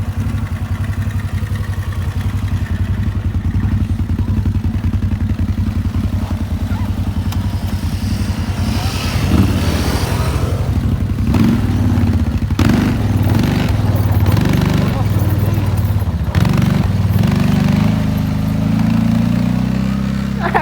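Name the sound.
motor vehicle engine revving under hard throttle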